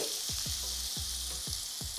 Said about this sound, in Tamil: எண்ணெய் லேசாக சூடு ஆனதன் பிறகு 2 to 3 வெங்காயத்தை நறுக்கி சேர்த்துக்கிறேன்